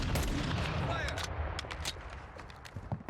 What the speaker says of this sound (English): did he just shoot his own teammate?